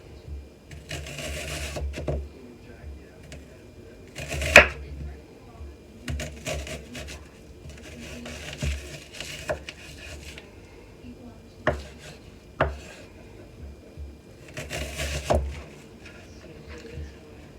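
An onion being chopped with a knife for New York–style hot dog onion sauce, irregular taps and scrapes on a cutting board under occasional soft talk, with a few sharper knocks spread through.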